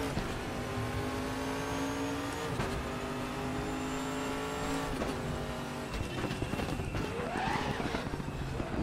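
A race car engine in RaceRoom Racing Experience echoes through a tunnel, a loud continuous drone rising and falling with gear changes, reverberant, with a brief tire squeal near the end.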